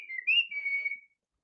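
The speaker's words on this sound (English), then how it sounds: "I suck in when I whistle." A person whistles by sucking air in, a single short wavering tone that slides and holds for about a second, close and fairly quiet, then stops.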